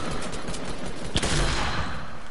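Rapid automatic gunfire from an assault-rifle fight in Fortnite crackles continuously, with one sharp louder crack in the middle followed by a booming impact, close and loud.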